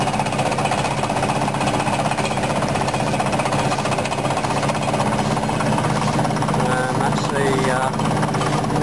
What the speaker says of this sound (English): the noise you can hear is the hammer action